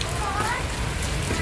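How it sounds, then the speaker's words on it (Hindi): Heavy rain pours steadily onto surfaces outdoors where children and pet parrots are playing, a dense close hiss throughout, with faint voices underneath. "बारिश अच्छी हो रही है।"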